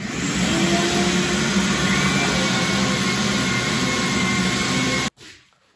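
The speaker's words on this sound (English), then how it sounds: "Sanded for a fair bit, did the sides." A power sander works over a wooden piece in a steady, loud, grinding whir for about five seconds, then stops abruptly and leaves a brief fading tail.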